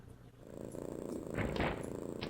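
A wrestling crowd mimics cats, with drawn-out meows rising from several spots in the arena. The noise starts low and builds to a louder cluster of overlapping cries near the end.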